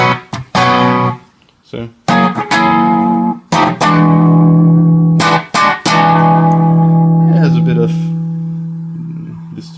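Electric guitar with high-output pickups, running only through a compressor and noise gate, rings out in sustained chords and single notes with a slight edge of distortion, cut into short bursts with abrupt gated silences; someone talks briefly over it.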